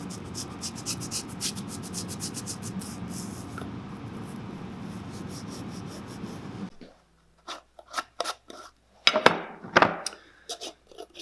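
Steady, rapid cloth rubbing on leather shoes during a buffing job, a continuous scratchy swish for several seconds, then a pause followed by a few short, separate rubs and taps, close and fairly quiet.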